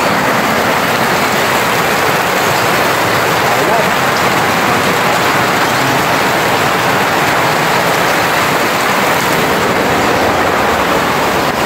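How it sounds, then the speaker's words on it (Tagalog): Heavy rain pours down steadily, a loud, dense hiss that fills the whole stretch without letup. "Lakas ang ulan."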